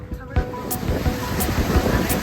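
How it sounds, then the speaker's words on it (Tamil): A ferry crossing Lake Shasta, with steady water wash and wind rushing over the microphone, continuous and moderately loud, and occasional knocks and bumps within the noise. "ஃபெரியில் நம்ம போயிட்டுருக்கோம்."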